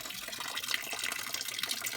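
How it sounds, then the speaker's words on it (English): Hot water from a Vaillant boiler during shunt pump removal gushes steadily into a bucket, a continuous close splashing and pouring rush with no pauses over the whole stretch. "all this water's in there, it just gushes out. Absolutely gushes out."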